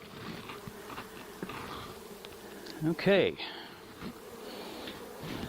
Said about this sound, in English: There's some bees flying around, but now they'll eventually get in there.